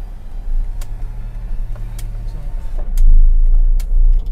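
Toyota Avanza engine running on a test drive after an overheating and engine rebuild, a low steady drone inside the car that rises with a few louder revs toward the end, with occasional sharp clicks.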